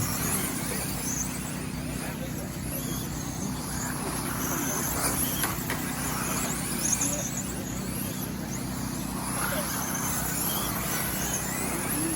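Cars racing around a dirt oval track produce a continuous, even drone of engines and tire noise at a moderate distance, with faint voices mixed in beneath.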